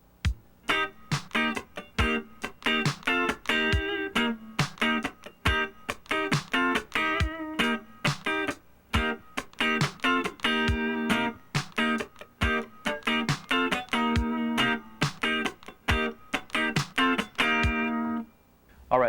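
A funk rhythm guitar part with chord shakes, played slowly, gives crisp, percussive strummed chords and muted scratches in a tight, even groove, loud and close with no voices.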